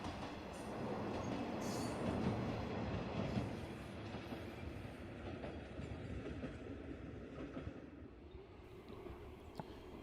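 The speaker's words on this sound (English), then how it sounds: "And this time there's a train up the line towards Nishikicho." A Nishikigawa Railway train runs along the line towards Nishikicho, a faint, distant rolling rumble with soft wheel clatter that slowly fades over ten seconds.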